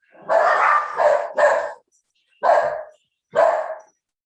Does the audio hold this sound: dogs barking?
yes